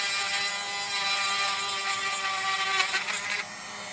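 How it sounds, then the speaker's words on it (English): A small hand drill whines steadily at high pitch as the bit cuts sideways into material like a router bit, close and continuous, easing off near the end. "this little drill works pretty darn well just doing it sideways"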